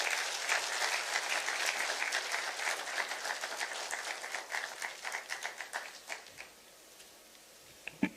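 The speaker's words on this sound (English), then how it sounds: "Another round of applause for Madam Ahuna." Audience applause at a public event in Makueni for the launch of a pan-African greentech hub, dense clapping that starts full and thins out toward the end, with a few last scattered claps.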